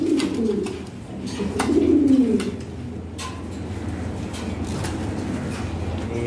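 Pair of Bombay pigeons cooing, low rolling coos close by at the start, then fading into a steady hum of background noise with faint clicks.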